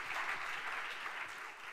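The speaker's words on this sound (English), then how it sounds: "This is your applause." A crowd applauds steadily, a dense wash of clapping heard at a distance, fairly quiet and even throughout.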